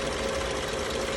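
A 2009 Toyota Camry engine running with a misfire (codes P0302 and P0352, cylinder two), a steady close drone with a constant hum, uneven roughness and vibration throughout.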